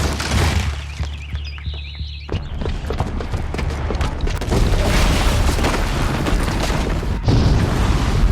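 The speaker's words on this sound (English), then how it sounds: "the booby trap on the bomb downstairs is gonna get set off" A booby-trapped bomb detonates in Horizon Zero Dawn, a loud booming blast with rumbling debris and crashing impacts that roll on for several seconds, followed by a second heavy thud near the end.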